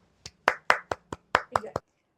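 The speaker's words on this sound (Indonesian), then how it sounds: "Berikan tepuk tangan untuk mengapresiasi kita semua" During a session on improvisation and ice breaking, hands clap in a short series of about eight sharp, distinct claps, uneven in spacing and fairly close, with a faint voice underneath, then silence.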